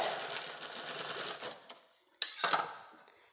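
A sewing machine stitches a joint on a patiala salwar in a quick rapid-fire run, then slows into a few separate clunks and clicks as it stops, quiet and close.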